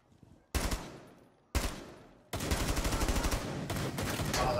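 Heavy-recoil gun in Rainbow Six Siege: two sharp single shots, then a rapid automatic burst of loud cracks that keeps firing to the end, close and punchy.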